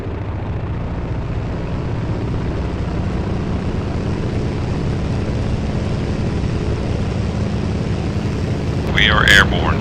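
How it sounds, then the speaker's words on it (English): A Curtiss F1 propeller plane in Flight Simulator X drones steadily through its takeoff roll, a continuous loud engine hum with a brief brighter burst near the end. "And we are cleared for takeoff."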